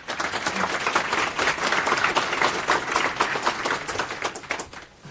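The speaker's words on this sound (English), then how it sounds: "So round of applause for Holden and Kris." Conference audience applauding two speakers, a dense, continuous wash of many hands clapping at steady volume before tapering off near the end.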